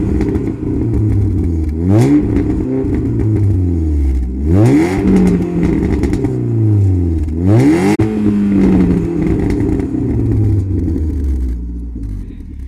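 A 1.6-litre 16-valve Volkswagen Golf 4 with full exhaust and complete intake revs hard three times, each rise and fall in pitch separated by a rough, rumbling idle.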